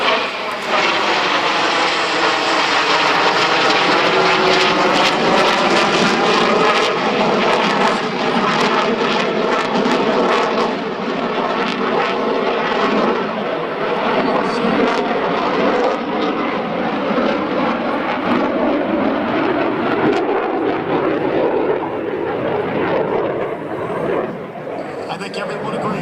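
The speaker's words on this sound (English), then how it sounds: "watches the aircraft pass over show center" US Navy F/A-18C and T-2 legacy flight jets pass overhead at an airshow with a long, loud, sustained roar whose pitch slowly sweeps as they go by. An announcer speaks over the PA beneath the engine noise.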